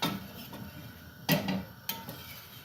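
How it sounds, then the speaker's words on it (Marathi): An iron tava griddle scrapes and clanks as it is shifted on a stove while cooking bhakri flatbread, with a couple of sharp metallic knocks among softer rattles, close and fairly quiet. "मग तवा थोडा सरकवूया"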